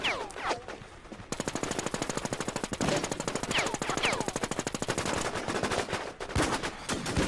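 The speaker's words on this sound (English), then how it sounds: "Trying to lay down some suppressive fire" Suppressive gunfire in the War Inc. Battlezone video game: a long sustained machine-gun burst of rapid, evenly spaced shots, preceded by a few scattered single shots and ending with more sporadic fire, loud and without talk.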